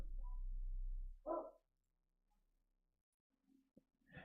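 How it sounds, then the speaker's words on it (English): A neighbour's dog barks a few times at a distance, faint separate woofs spaced out over several seconds, following a short low rumble at the start, with a quiet room otherwise. "My neighbor's dog started to bark."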